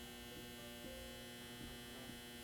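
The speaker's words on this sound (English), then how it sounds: "I promise that dryer's gonna stop." A clothes dryer runs as a steady low electrical hum with faint throbbing, continuous and even throughout with no voices.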